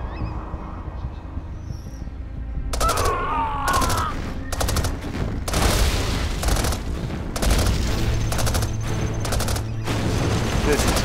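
Rapid gunfire and heavy explosions from the Command & Conquer Generals USA campaign battle roar in dense, overlapping bursts throughout, with loud repeated broadband blasts.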